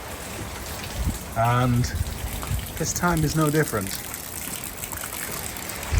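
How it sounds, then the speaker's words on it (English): Light rain falls steadily in Los Angeles with water trickling and dripping, a constant wet hiss that continues under a man's close speech. "Los Angeles had a little bit of rain"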